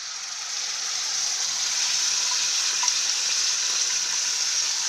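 Ground mint paste hits a hot pan while making mint rice, setting off a steady, loud sizzling and frying hiss that holds evenly throughout with no talking.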